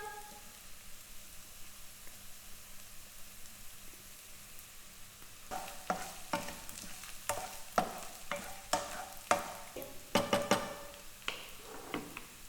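Curry leaves and ginger hit hot oil in a pan for idli upma: a low hiss at first, then sharp bursts of crackling and popping that come in repeated spurts, close and fairly loud, with no voices.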